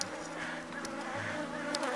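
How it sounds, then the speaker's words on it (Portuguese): Honeybees swarm and buzz around an opened beehive as frames are handled, a dense steady drone with individual bees passing close by. "uma abelha que não é agressiva"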